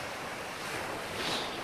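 Water lapping at a shore in the Legend of the Piper Girl visual novel: a soft, steady wash of surf with a gentle swell near the end, faint and continuous, no voices.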